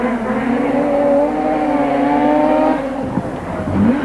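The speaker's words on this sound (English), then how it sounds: "13B peripheral port, 300 horsepower carbureted rotary engine." A rally car's 300-horsepower carbureted 13B peripheral-port rotary engine screams at high revs as it accelerates, its pitch climbing steadily, then briefly drops and picks up again as it shifts.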